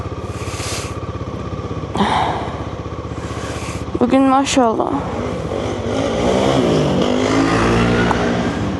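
Morning road traffic, with motorcycles and cars passing and revving close by, one engine rising sharply in pitch midway, while people talk over the steady vehicle noise.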